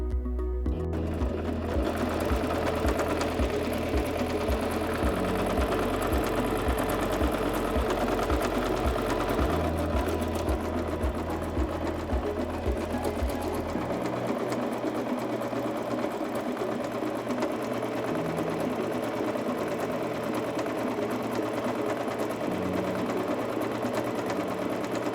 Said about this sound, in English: Step on the foot control to start sewing and sew until the buttonhole is finished.